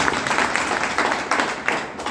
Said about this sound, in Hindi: एक बार जोरदार ताली चाहिए